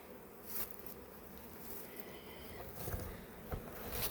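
Honey bees buzz steadily as they fly out of an opened beehive. The drone is faint and continuous, with a few louder passes close by.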